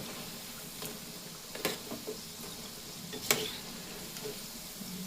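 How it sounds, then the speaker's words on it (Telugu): Ajwain (carom) leaf pakodi fry in hot oil with a low, steady sizzle, broken by a few sharp crackles and pops. It sounds fairly quiet and close, with no talking. "ఇంకొంచెం వేగితే తీసేసుకుందామండి ఓకే ఇవి కొండి వేగిపోయినాయి"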